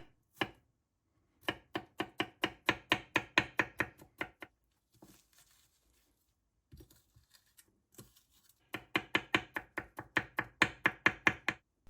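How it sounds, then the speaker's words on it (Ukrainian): A knife finely chops garlic on a board in quick, even runs of crisp, close taps, with short pauses between bursts. "беремо часник розчавлюємо його та дрібно-дрібно нарізаємо"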